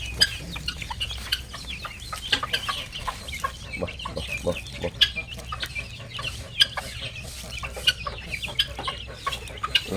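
A black hen, a karunkozhi, clucks steadily among her chicks on a home farm, with repeated short clucks and high peeping close by over a low rumbling background.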